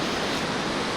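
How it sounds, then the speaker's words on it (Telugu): River water rushing down from waterfalls in Old Manali makes a steady, dense roar that fills the whole second with no break and no voices. "So that is the river actually. అది వాటర్ ఫాల్స్ నుంచి వస్తున్న వాటర్"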